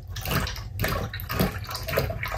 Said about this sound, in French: si on ouvre le robinet juste un petit peu, ce qui se passe